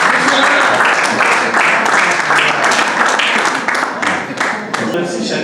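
Dense, steady applause from a wedding crowd fills the whole stretch, loud and continuous, with a few voices mixed in beneath the clapping.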